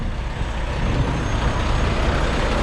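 A truck's trailer air brake is released with one loud, steady hiss of escaping air that fills the whole moment, close by and with no talking.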